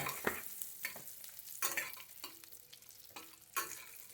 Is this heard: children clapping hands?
no